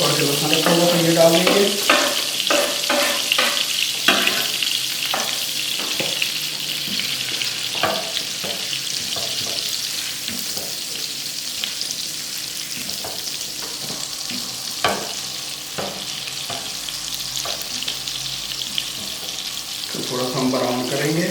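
Chopped garlic frying in butter in a pan, a continuous near sizzle broken by repeated scraping and stirring knocks, with some watery splashing sounds mixed in and no speech.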